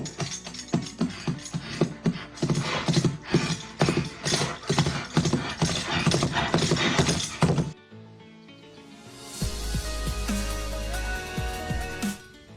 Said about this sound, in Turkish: Kurumuş, boş bir Hindistan cevizi kabuklarını birbirine vurarsanız çok tanıdık bir ses duyarsınız. Evet, nal sesleri.